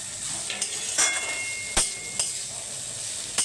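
Flattened rice (chira) being stirred in a pan for chira pulao, heard as a few sharp, faint scrapes and knocks of a utensil at irregular intervals over a soft background hiss.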